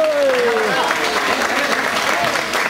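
A crowd at a maize festival in Pasaquina claps loudly and steadily throughout, with a voice briefly audible over the applause at the start.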